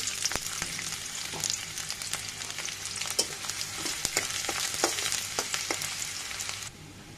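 Chopped onion sizzles in hot oil in a wok, a steady bright frying hiss broken by scattered crackles and pops and occasional stirring scrapes, heard close and without talk.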